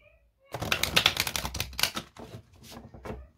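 Playing cards being shuffled by hand for a card reading, a quick run of crisp rapid riffling clicks, close and fairly loud, pausing briefly before a few more shorter bursts.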